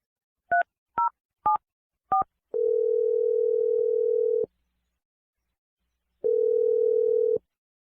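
Four short telephone keypad tones are dialed, followed by a steady dial or ringback tone lasting about two seconds, a silence, then another long tone, all clean and close with no talking.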